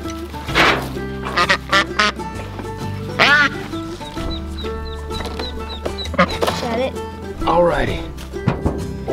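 Ducks and a duckling quack repeatedly and close by on a goat farm, mixed with clucking fowl and scattered farmyard noise, while people talk throughout.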